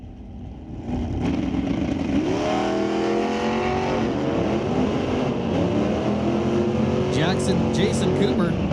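A 2017 C7 Corvette and a 1972 Ford Maverick launch side by side at a drag strip, engines roaring loud and sustained as revs climb in rising sweeps, with commentary talk over the din.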